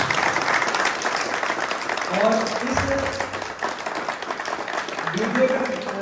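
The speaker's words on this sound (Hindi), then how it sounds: "सर के लिए जोरदार तालियां होनी चाहिए।" Audience applause at a team training event, a sustained patter of many clapping hands heard under a voice talking over it.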